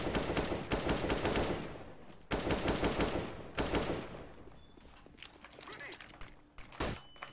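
Rapid automatic gunfire from Counter-Strike: Global Offensive rattles in two long, loud bursts, then tapers into scattered single shots and quieter game sounds.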